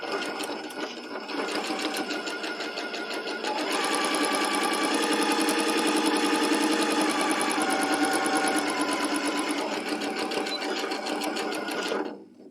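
A sewing machine stitches back stitches on a table runner, a loud, steady whirring drone that runs unbroken for about twelve seconds before stopping abruptly.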